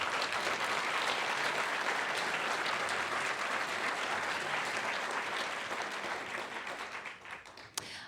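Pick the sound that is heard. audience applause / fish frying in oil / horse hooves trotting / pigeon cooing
audience applause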